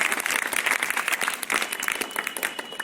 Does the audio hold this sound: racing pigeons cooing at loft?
no